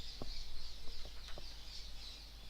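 Birds chirp at sunset in a steady high-pitched chorus, with a few louder nearby clucking calls standing out, moderate and continuous in the background.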